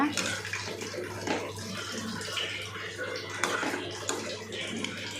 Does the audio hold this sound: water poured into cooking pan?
yes